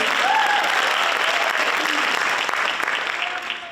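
Audience at a women's history month panel breaks into loud, sustained applause with some cheering, dense clapping holding steady and tapering slightly toward the end.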